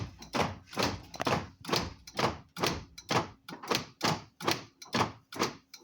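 The door locks of a Mazda 626 GF with a lock fault cycle on their own, giving a rapid, regular series of about a dozen sharp mechanical thunks at close range with no talk over them.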